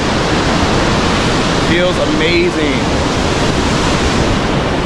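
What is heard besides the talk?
Victoria Falls waterfall roaring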